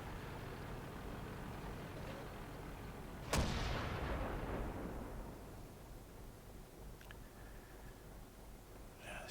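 A tank cannon fires in World of Tanks during an M48A1 medium tank battle, one sharp loud blast with a long rumbling decay, followed by faint distant shots.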